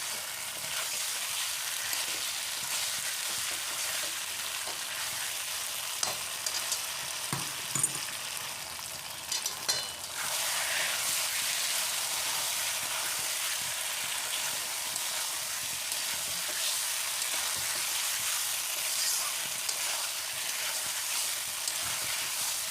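Chicken kosha is stir-fried in spices with a steady, moderately quiet sizzling hiss. A few small clatters break in midway, then the frying continues evenly with no voices.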